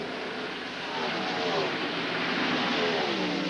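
Jeff Gordon's NASCAR stock car in the 1997 California 500 roars through the tri-oval. The loud engine drone rises and sweeps in pitch as the car passes near, with crowd and track noise underneath.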